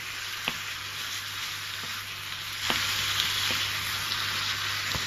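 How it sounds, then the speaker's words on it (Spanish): Minced meat and onion fry in a pan with a steady close sizzle, which grows slightly louder partway through, while a wooden utensil breaks up the meat with intermittent soft clicks and scrapes. "Con un utensilio de madera, separarla bien mientras se va haciendo y la mezcláis con la cebolla"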